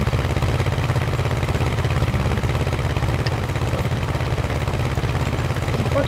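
A tractor engine runs at a steady, even idle, a low throbbing drone that holds unchanged throughout with no talk.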